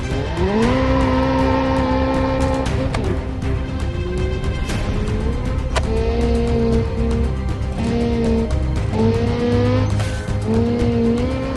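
A car in BeamNG.drive brakes hard with long, loud tire squeals over a sustained engine drone, the screeching tones rising and falling in repeated bursts without talk.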